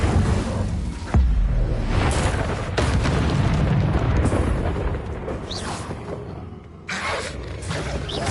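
An Incendio fire spell is cast in Hogwarts Legacy, bursting with loud booming, roaring blasts and crackling flame that continue almost without pause amid the surrounding battle effects.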